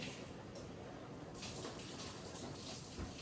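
Water runs steadily from a kitchen tap in a continuous, faint splashing stream that stays even throughout, with no voices.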